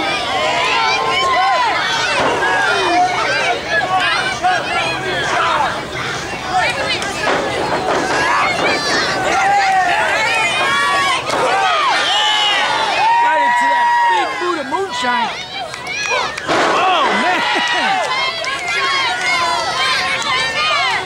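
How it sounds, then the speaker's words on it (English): A loud, dense crowd at an indoor wrestling event roars and cheers continuously, a steady wash of voices with swelling shouts throughout, close and overwhelming with no clear pauses. "Listen to this crowd."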